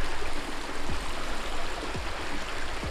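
A river rushes steadily on its way to the coast near Westward Ho! in North Devon, a constant broadband wash of water with no voices.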